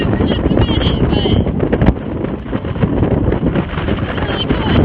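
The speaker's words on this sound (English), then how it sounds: "Super freaking windy." Strong wind roars and buffets the microphone continuously on the Appalachian Trail, a loud rushing rumble that fills the whole clip.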